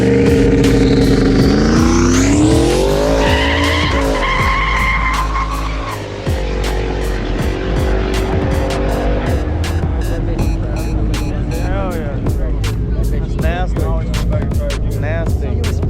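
A street racing car spins its tires in a loud, sustained screech while the engine wails and climbs through the revs, with the squeal carrying on under the engine noise.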